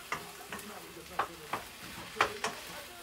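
Egg foo yung sizzles in a hot wok as a spatula folds the egg over on itself, with a steady fry hiss broken by six or seven sharp scrapes and clanks at irregular intervals.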